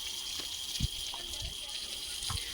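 Water poured or sprayed onto freshly laid brickwork at a house under construction, a steady hissing wash with soft splashing thuds, heard under a voice talking nearby.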